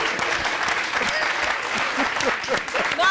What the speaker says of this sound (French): Alors on va applaudir pour les chauves